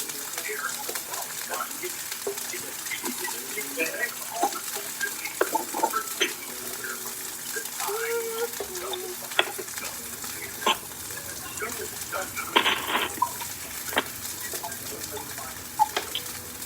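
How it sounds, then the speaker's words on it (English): A honey glaze mixture being stirred in a bowl, with soft scraping and sloshing strokes and light clinks running throughout, while frying sizzles quietly in the background and occasional brief taps sound. "I'm going to mix up my honey glaze mixture over here."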